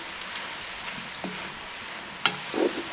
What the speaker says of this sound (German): Noch einen Moment brutzeln lassen und dann wird es abgelöscht.